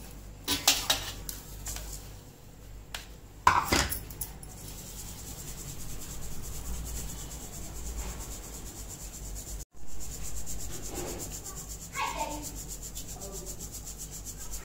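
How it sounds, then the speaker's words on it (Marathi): Dry raw-mango powder is sifted through a kitchen strainer, giving soft, continuous scraping and rubbing with a few louder metallic taps and clinks near the start, close and fairly quiet. "आता ही गाळणीने गाळून घ्यायची चाळणीने"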